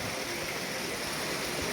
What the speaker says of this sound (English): Look at this next waterfall coming up.